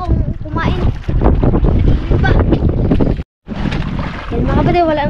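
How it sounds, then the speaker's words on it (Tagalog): Strong wind buffeting a microphone on a fishing boat at sea, a loud continuous rumbling roar with brief gusty surges and a short dropout, while people talk under it. "Lakas na rin ng hangin."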